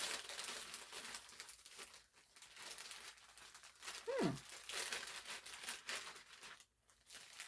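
A plastic bag, the kind mistaken for a Ziploc, crinkles and rustles as it is handled up close, in irregular bursts with a short squeaky note midway.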